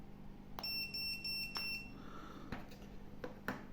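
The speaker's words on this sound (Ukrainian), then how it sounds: "Звук." A DOBE DB600 electronic anti-bark dog collar in beep mode gives a steady high electronic tone, followed by a few faint clicks, close and quiet with no voices.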